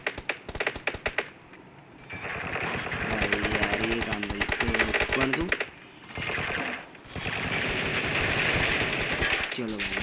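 Rapid gunfire from the mobile battle-royale game PUBG New State rattles in dense bursts, close and loud, interleaved with brief pauses and tapping, while a voice talks over it.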